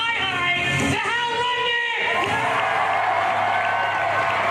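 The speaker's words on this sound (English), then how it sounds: "I want you all to give a big round of applause" Audience applause and cheering at a Wizard World 2016 comic convention, a loud crowd roar with clapping and a few whoops under a host's amplified voice, continuing steadily throughout.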